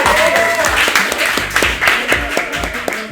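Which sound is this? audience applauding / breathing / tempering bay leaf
audience applauding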